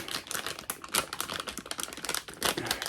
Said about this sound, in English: I'm sure that crinkling is making a lot of noise on the camera